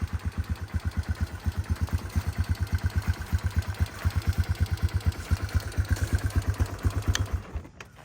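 A Yamaha Moto4 200 ATV engine idles up close with a loud, steady, evenly spaced thumping pulse that runs for about seven seconds before cutting out.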